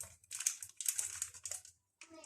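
A dry yeast packet crinkles and rustles in close, quiet bursts as it is handled while dough for ma'amoul is being prepared in a kitchen, with a brief voice at the end.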